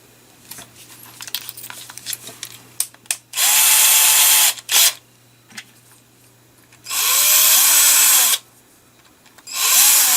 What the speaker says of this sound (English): I use various drill bits to clean up openings and holes